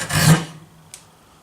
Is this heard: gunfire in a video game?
no